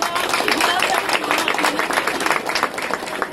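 An audience at a public health event in Ajivali applauds, a dense, continuous spatter of many hands clapping with crowd murmur beneath, sustained and fairly loud throughout.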